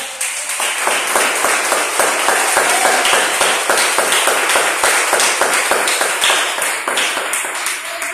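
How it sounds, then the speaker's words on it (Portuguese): A church congregation applauds loudly and densely, many hands clapping together in a sustained, fairly even rhythm that fills the room for several seconds. "Dá para aplaudir ele com fé?"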